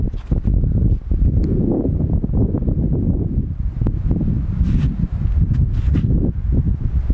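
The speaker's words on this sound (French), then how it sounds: "Il y a quand même un peu de vent aujourd'hui" Outdoor wind gusts buffet the microphone in a steady low rumble with rustling bursts throughout, fairly loud and close, with no talking over it.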